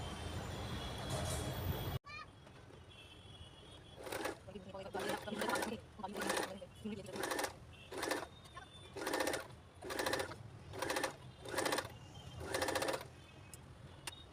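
A sewing machine top-stitching a cloth shopping bag made from a reused blouse piece, running in about ten short bursts with pauses between, after a moment of voice at the start.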